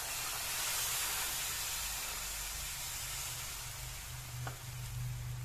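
Milk going into a hot roasted mixture for a nylon sago barfi sweet gives a steady sizzling hiss that holds throughout, close and fairly loud, with no talking.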